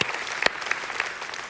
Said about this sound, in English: we can applaud to that